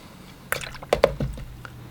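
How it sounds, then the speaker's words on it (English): Paint flicked from a brush lands on paper in a few soft, wet splats close by, spaced over about a second in a quiet room. "We're just splashing around. A couple splashes."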